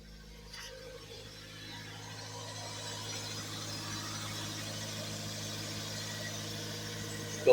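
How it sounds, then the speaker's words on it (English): A 2000 Toyota MR2 Spyder engine idles high after a cold start at about 1500 rpm, giving a steady, even hum that swells slightly in the first seconds and then holds level, with no talking. "At startup, it's revving at about"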